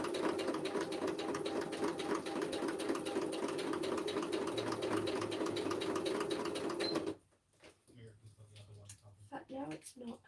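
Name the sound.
sewing machine stitching a journal pocket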